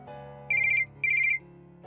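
A telephone ringing with two short bursts of bright electronic trilling, close and loud, over a soft sustained musical backing.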